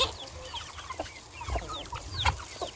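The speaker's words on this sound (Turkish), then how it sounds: "Bakın civcivlerim. Bunlar üç günlük falan oldu daha çıkalı." Soft clucking from a hen mixes with high, thin peeping of her three-day-old chicks, scattered and fairly quiet, close by.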